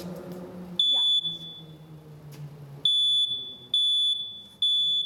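A smoke alarm gives four loud, shrill beeps at regular intervals, each about half a second long, over quiet background voices at a fire department.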